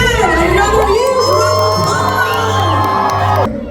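Crowd at a Hmong American music anniversary event cheering and whooping for honorees, a dense, loud wash of voices with shouts rising over it, then cutting off sharply near the end.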